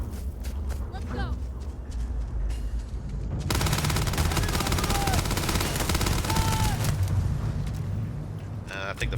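Gunfire in the sci-fi game Starfield pops in sharp, rapid bursts, with sparse shots at first and then a dense, loud stretch of continuous shooting in the middle.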